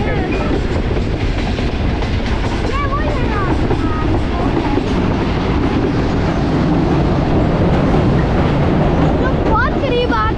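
A train rumbles past at the Dharampura railway crossing near Lahore, a loud, steady roar with rattling wheels lasting throughout, while people talk under the noise.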